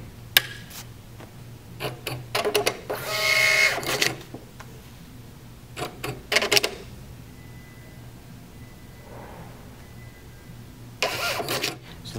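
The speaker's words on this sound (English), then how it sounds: "hold the feed button down on the front of the printer while turning the power on." A Star TSP650II receipt printer prints a self-test, chattering in short rapid bursts, mechanical buzzing rising and stopping several times with quiet gaps between.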